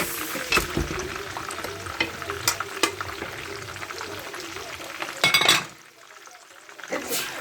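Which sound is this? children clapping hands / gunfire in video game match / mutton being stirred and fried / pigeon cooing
mutton being stirred and fried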